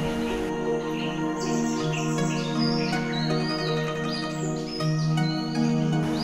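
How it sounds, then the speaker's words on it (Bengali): Small birds chirp and tweet in quick high calls over a steady, droning musical background, in a village in the snowy mountains of Sikkim. "আর শুধুই পাখির কুহুকুজন"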